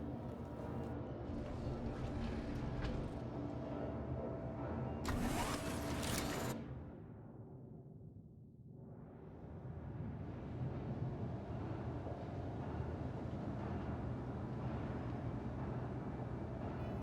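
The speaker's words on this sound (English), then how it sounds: "Engines on." Spaceship engines in the Star Citizen game spool through a long, loud broadband roar and hum, with a hissing burst midway, a dip that sweeps down and back up, then steady rumbling power.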